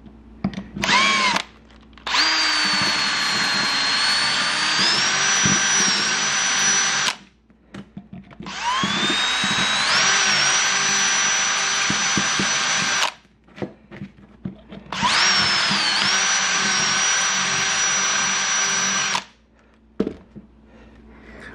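A power drill widens the rivet holes on a 2014 Suzuki GSX-R 750 exhaust canister, boring out the old rivets in three long whining bursts separated by short pauses, loud and close.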